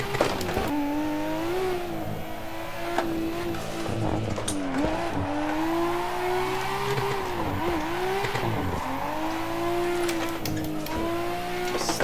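A car drifts in a VR driving simulator game, its tires squealing steadily over a revving engine that rises and dips as it slides through turns, loud and close throughout.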